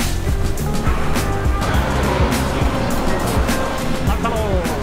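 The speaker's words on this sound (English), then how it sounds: "I love riding in Japanese taxis." A Japanese taxi rolls through Tokyo with a steady low road and engine rumble and a constant cabin whoosh, while a person talks over it throughout.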